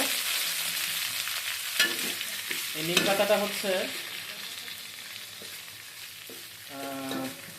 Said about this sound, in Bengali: এখানে হচ্ছে সয়াবিন তেলে জিরা একসাথে দেওয়া হয়েছে, আর সর্ষে দেওয়া হয়েছে, এর উপরে নিম পাতা দেওয়া হয়েছে।